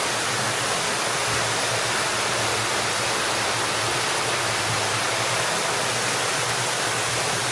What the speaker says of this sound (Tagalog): Itong ating curtain water feature or rain curtain water feature